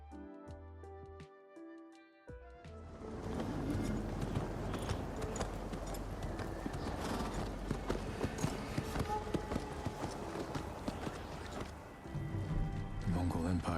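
Horse hooves clip-clop in a steady running rhythm during riding in Ghost of Tsushima, close and continuous under an orchestral score after a brief musical opening.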